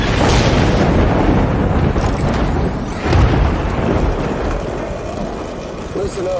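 Heavy rain in Death Stranding, a loud steady wash with deep rolling thunder-like rumbles swelling near the start and again around the middle, with a voice speaking over it.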